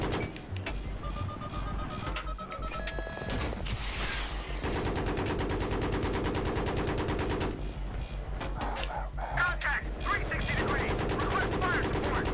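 Rapid gunfire from Battlefield 3 during helicopter training: loud sustained automatic bursts with brief pauses, sharp clicks and mechanical clatter, dense and close throughout.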